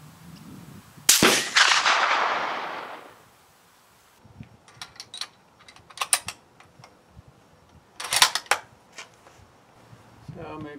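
A Springfield 1903A4 rifle fires at an outdoor range: one loud, close shot with a long decaying echo, followed by quieter clicks and handling noises of the bolt and gear.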